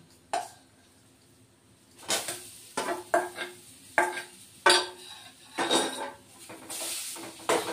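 Ground mung dal worked into flour in a bowl for kachori dough, a string of irregular clinks, knocks and scrapes against the bowl with quiet gaps between them.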